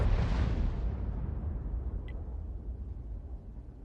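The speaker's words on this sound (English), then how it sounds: "And that Lerva's firing out from the town." A tank gun firing in a World of Tanks battle: a single heavy booming blast at the start, decaying into a long rumbling tail with no talk.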